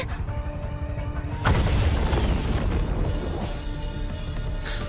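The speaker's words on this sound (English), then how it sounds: "From the direction that Lucia had disappeared in, a loud explosion rang out" A loud explosion in the Chaos Zero Nightmare video game hits suddenly after a quieter stretch, then rolls on as a dense, sustained rumble and crash that gradually eases.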